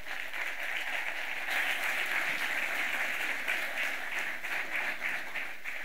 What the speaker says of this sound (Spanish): Le damos una bienvenida con un aplauso, por favor.